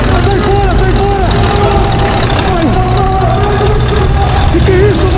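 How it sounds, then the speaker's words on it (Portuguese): Heavy truck engine rumbling steadily at idle, loud and close, with excited voices talking over it throughout. "O caminhão ligou!"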